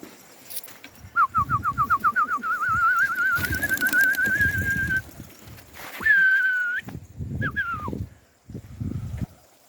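Pigeons outdoors give repeated, close, loud cooing and whistling calls in a steady rhythm, with rising and falling tones and short pauses, and no talking.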